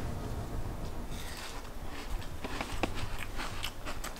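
Close, quiet crunching as crisp kadaif pastry is bitten and chewed, with several sharp crackly bites over a faint background.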